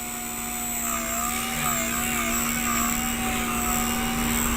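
A Blade 130X RC helicopter with stripped main gear flies nearby, its motor and rotor giving a steady high whine and buzz that wavers slightly in pitch, continuous throughout with no talk.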